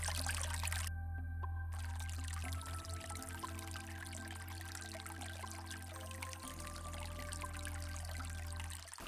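Spring-fed stream flowing along the Rue de la Fontaine Bouillante in a Marne village, a steady broadband rush and trickle of water running continuously, close and fairly loud, with no talk.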